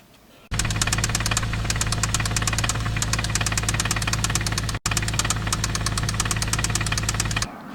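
A blown Infiniti G35 coupe engine catches and runs with a loud, rapid metallic knocking over a rough idle, close up, briefly dropping out for an instant before carrying on, then cutting off near the end.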